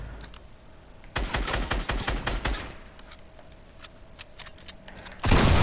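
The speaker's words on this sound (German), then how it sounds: "Okay, die können auf jeden Fall doch schießen." Rapid bursts of automatic gunfire from enemies in Fortnite zombie mode, a video game: a long volley, quieter scattered shots, then another loud burst at the end, with no talk.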